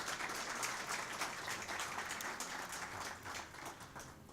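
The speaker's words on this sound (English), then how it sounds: "I think we deserve an applause for that." A brief round of applause at a bank investor briefing, soft and somewhat distant, a roomful of hands clapping steadily for a few seconds without voices over it.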